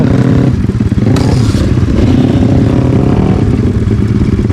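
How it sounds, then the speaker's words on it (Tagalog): A Kawasaki KLX150 dirt bike engine revs hard and loud while the bike crosses a river, with a sustained growling drone and some clattering and scraping mixed in. "Ayaw ko mamatay yung motor to kasi pag namatay."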